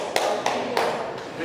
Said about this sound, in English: Maybe a clap.